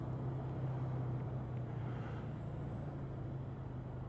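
Suzuki GS 1000 motorcycle engine running steadily just after starting on full choke, a faint, even low drone with no talk.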